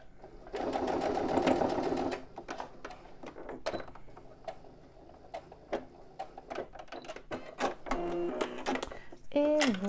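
A sewing machine topstitches a fabric bum bag in a short, fast burst of stitching, followed by scattered clicks and handling noises of fabric and parts, with brief vocal sounds near the end.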